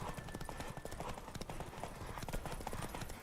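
Rapid, steady hoofbeats of a galloping horse in The Witcher 3 video game, loud and close, drumming continuously throughout.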